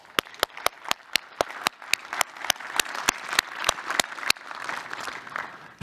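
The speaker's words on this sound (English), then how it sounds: "I think they deserve a big round of applause." Audience applause at a cryptocurrency and blockchain conference, opening with sharp, distinct rhythmic claps in a steady beat that blend into a broader, looser patter of clapping that gradually thins out.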